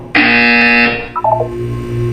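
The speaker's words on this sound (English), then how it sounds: "When you hear the buzzer, look down at the floor." A loud electronic buzzer in the video game Portal 2 blares for about a second, followed by a short burst of rising beeps and then a low lingering hum.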